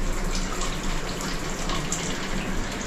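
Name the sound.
water running from bathroom shower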